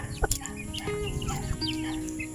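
Backyard chickens being fed in the late afternoon, clucking and chirping in short, overlapping calls at close range, with a sharp louder squawk near the start.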